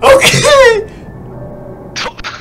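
A person sneezes once, sharp and loud close by, right after a short spoken word, followed by a quiet pause and a brief noise.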